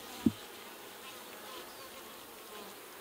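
Honey bees buzz steadily around a newly installed nuc hive, a continuous, fairly faint drone that holds for several seconds, with one brief soft thump near the start and no talk.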